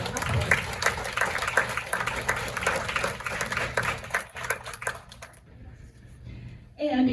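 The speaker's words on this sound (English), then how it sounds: "Please a round of applause for this team that made tonight possible." A crowd applauds at a school board of education meeting, with steady, dense clapping for several seconds before it fades out to near quiet and a voice starts up at the end.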